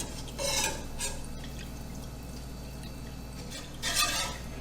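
Cornstarch being stirred into water, with two wet, swishing bursts of mixing and light dripping over a steady low background hum, close and without speech.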